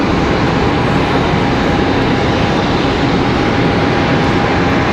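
An airplane landing at Charlotte Douglas International Airport gives a loud, steady broadband jet roar that holds unchanged throughout, with no talk.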